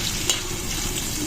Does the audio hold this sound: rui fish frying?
yes